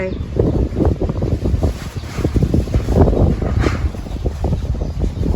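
Strong, cold wind buffets the microphone outdoors, a continuous loud rushing roar with gusty surges and no break.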